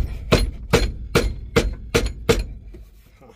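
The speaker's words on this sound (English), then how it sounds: "I don't know if I can get the glove box open." Stuck glove box in an old Ford bumpside pickup truck being forced, six sharp, evenly spaced knocks and rattles about every 0.4 seconds, close and fairly loud, then quiet.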